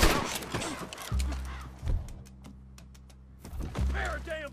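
Gunshots in the Red Dead Redemption 2 video game, a few heavy booming shots spaced about a second apart among scattered clicks, with voices speaking around them.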